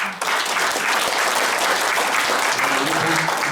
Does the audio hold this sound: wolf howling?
no